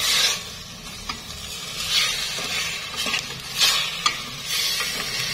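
Roast pork with pickled mustard greens being stirred in a hot pan, a steady sizzle broken by periodic swells of hiss and small scraping clicks as the spoon turns the meat, close and loud, with no voices.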